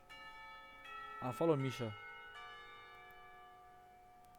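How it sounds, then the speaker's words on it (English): A clock tower bell rings out in a dating sim game's school setting, a few resonant strokes with long sustained overtones that linger and fade, briefly joined by a short spoken line. "The clock tower bell's ringing, time for lunch."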